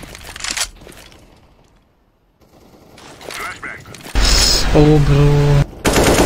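Gunfire in an online shooter match, a rapid burst of automatic shots after quieter stretches, with players talking over the game sounds.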